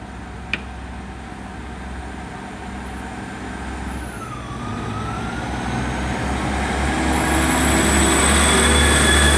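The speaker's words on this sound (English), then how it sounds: "South Western Railway Unit 158-880 is now forming the 1036 Great Western Railway service to Westbury" A South Western Railway Class 158 diesel unit, number 158-880, at Swindon station, rumbling steadily and growing louder over several seconds, with a brief pitched tone sweeping down midway and a sharp click near the start.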